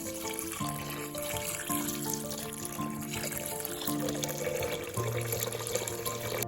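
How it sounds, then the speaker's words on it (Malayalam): Water poured from a tap or vessel into a pot of mutton soup, a steady close stream of splashing that runs continuously for several seconds, with no talk. "ഇതിലേക്ക് ഇനി നമ്മൾ 4 കപ്പ് വെള്ളം കൂടി ഒഴിക്കുകയാണ്"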